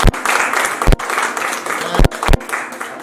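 Loud applause from an award show audience, dense clapping that runs throughout with a few brief dips, close and full.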